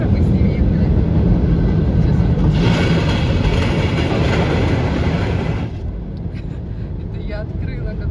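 A train rumbles alongside a car driving across a bridge on the road near Syktyvkar in the Komi Republic, a loud, sustained roar with a rushing swell midway that then eases off.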